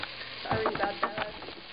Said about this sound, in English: now I'm going to stir it around.